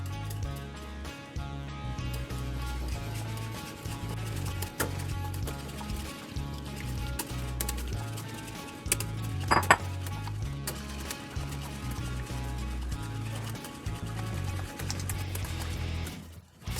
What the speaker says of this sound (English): So you want to whisk this until it's well combined.